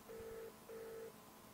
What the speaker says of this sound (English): Click call, and then dial, and that will actually start ringing that number through your mobile.